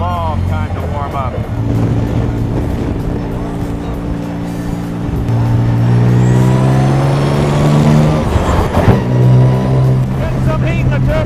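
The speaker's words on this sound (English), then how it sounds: "Nothing like hearing that wastegate pop off." A 1924 Bentley fitted with twin turbochargers, engine running and warming up with a throaty droning rumble that swells, punctuated by a sharp hissing pop as the wastegate blows off, under someone talking.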